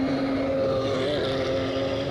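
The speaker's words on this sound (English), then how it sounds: "while camera follows Ignas Jomantas in another Porsche" A Porsche race car on a circuit in Riga, heard as a loud, steady engine drone with a sustained tonal whine that shifts slightly in pitch as the car passes close by.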